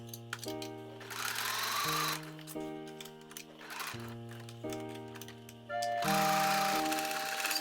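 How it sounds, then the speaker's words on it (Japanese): A sewing machine runs in bursts, stitching the side seam and the squared hem slit of an adult garment, its motor whirring at shifting speeds with brief pauses between runs, close and clear with no talk. "脇を縫おう。 裾のスリットをコの字で縫おう。"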